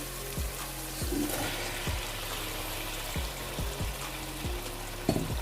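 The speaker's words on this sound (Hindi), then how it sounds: "अब हम इसके अंदर चिकन को ऐड कर देंगे।" Chicken goes into a pan of sizzling masala, a steady soft frying hiss with repeated low thuds and clinks as pieces drop in and are stirred.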